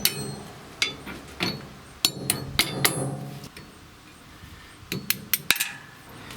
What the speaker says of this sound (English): So I'm just going to lightly tap it with a hammer here.